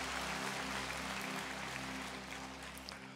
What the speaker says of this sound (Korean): 우리 주님께 영광 박수 올려드리겠습니다.